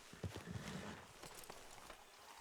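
Faint horse hooves clop in a few quick, uneven beats at the start in the video game Red Dead Redemption 2, then give way to a low, quiet outdoor background.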